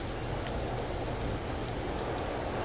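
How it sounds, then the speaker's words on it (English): Rain in the video game Empyrion: a steady, dense patter of drops hitting surfaces, even and continuous for the whole short stretch with no voices. "I guess it's rain."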